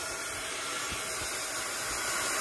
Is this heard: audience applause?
no